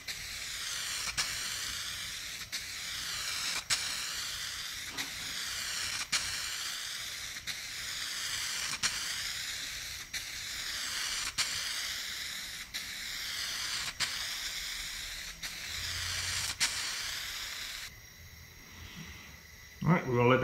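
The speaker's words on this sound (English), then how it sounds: "So the second coat, we're gonna come back and we're gonna wet it up." An aerosol can of spray paint lays down a second wet coat in a custom paint job, giving a steady, close hiss broken by regular short ticks. The hiss cuts off near the end.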